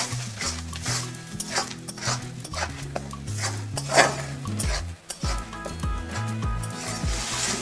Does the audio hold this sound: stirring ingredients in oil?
yes